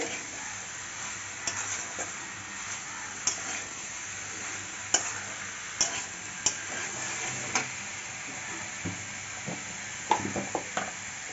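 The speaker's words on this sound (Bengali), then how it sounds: "সব সবজিগুলো ভেজে রেখেছিলাম সেগুলো সব দিয়ে দিচ্ছি দিয়ে ভালো করে কষিয়ে নেবো" Fried vegetables sauté in a pan for a Bengali cauliflower stalk curry, with a soft, steady sizzle under irregular taps and clicks as a spatula stirs and scrapes the pan.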